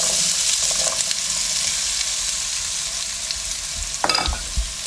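Diced sweet potatoes and Yukon Gold potatoes fry in really hot olive oil, a loud, continuous sizzle with a burst of stirring and clatter near the end.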